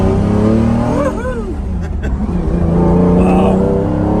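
A Lamborghini sports car engine roars and revs loudly and close by, rising and falling in pitch, while voices speak over it.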